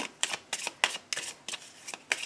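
Tarot cards being shuffled for a reading, a rhythmic series of crisp riffling bursts repeating about every half second, close and clear with no talking.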